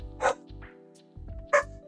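A pet dog barks indoors in a few sharp, close yips spaced about a second apart, over a low steady background hum.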